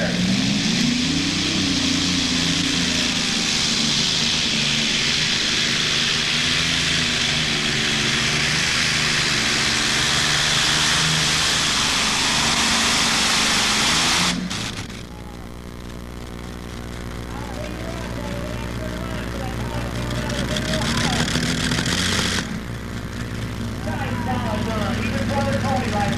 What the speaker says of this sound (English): Dan and his brother Tony own and operate this tractor.